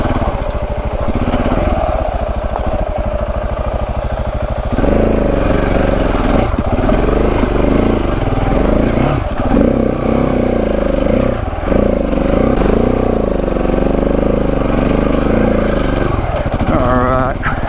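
A KTM 690 Enduro motorcycle engine drones loud and close throughout a ride, holding a steady throttle with small rises and dips in revs.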